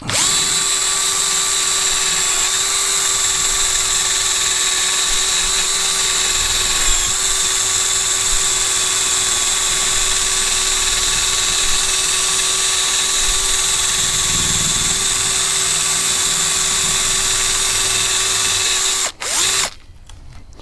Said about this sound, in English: We're gonna rock the drill